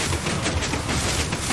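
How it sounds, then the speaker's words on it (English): A massive explosion in the Minecraft game Missile Wars, a dense broadband blast that roars continuously at full loudness with crackling debris throughout, no talk. "A massive explosion!"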